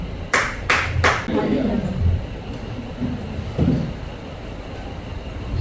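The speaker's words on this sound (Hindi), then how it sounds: "Shall we clap once again for Jesus Christ?" Three sharp, loud claps ring out in quick succession at a church service, followed by quieter congregation noise and speaking voices.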